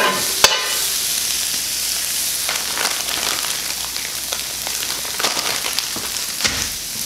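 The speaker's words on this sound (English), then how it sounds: "We're gonna take our provolone slices and lay them on the flat top here." Provolone cheese slices sizzle on a flat top griddle with a loud, continuous crackling hiss, a sharp clank near the start and a few scraping taps later; no one speaks.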